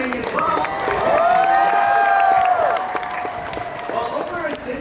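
A crowd applauds and cheers for Mickey Mouse and the gang at the Disneyland 70th anniversary cavalcade, a steady wash of clapping and voices with a sustained tonal swell rising over it midway.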